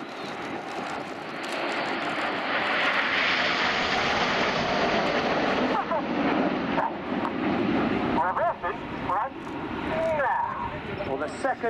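Jet aircraft, among them the Red Arrows and a Typhoon, fly display passes trailing red and white smoke at the RIAT 2016 air show, a loud sustained engine roar rising and fading while a commentator talks over it.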